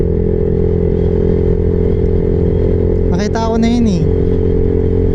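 A group of motorcycle riders rolls along together on the road, a constant close engine drone with wind and road noise, while someone talks briefly over it.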